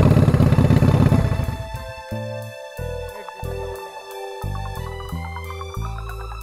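A Kawasaki ZX-9 motorcycle engine runs on choke, starting with a loud rough rumble that drops off after two seconds into an uneven, surging idle with repeated rhythmic pulses, close by and with no talk.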